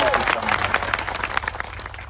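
Audience applause at a Gujarat Aam Aadmi Party rally welcoming Chaitarbhai, steady crowd clapping throughout with a speaking voice over it.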